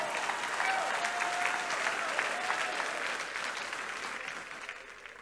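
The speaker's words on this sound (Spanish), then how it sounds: "Denle un aplauso fuerte a Dios," A Pentecostal-style church congregation claps together in a sustained burst of applause to God during a Spanish-language worship service, steady and full before tapering off slightly at the end.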